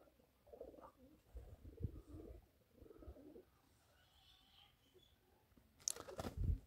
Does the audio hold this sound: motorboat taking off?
no